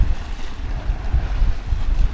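Crosswind roars across a sailboat off northern Euboea, Greece, a steady buffeting rush of air against the microphone with low gusty rumble and water noise beneath, no voices.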